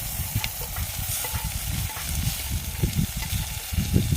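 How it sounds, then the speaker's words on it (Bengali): Chopped tomatoes hit browned onions frying in oil for a catfish curry, giving a steady close sizzle and hiss with soft stirring scrapes running throughout, no voices. "এবার দিয়ে দিচ্ছি কেটে রাখা টমেটো।"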